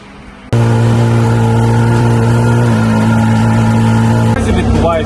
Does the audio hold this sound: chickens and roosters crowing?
no